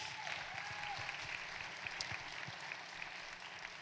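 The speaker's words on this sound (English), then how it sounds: "give him a round of applause" A round of applause for a celebrated honoree at a community gathering on Africatown in Seattle, steady hand clapping from the audience with a few distinct louder claps, moderately faint and sustained throughout.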